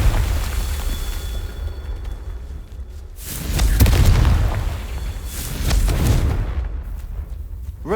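Explosive Confringo spell cast in the Hogwarts Legacy video game, heard as heavy booming blasts with rumbling low end, two loud bursts a couple of seconds apart over a steady game background, with no talking.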